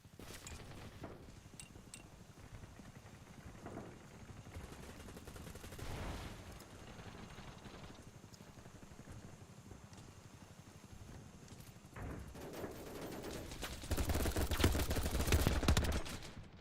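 Bursts of machine-gun fire in a video game crackle at a steady moderate level, with scattered single shots and a louder, denser volley near the end; no one speaks.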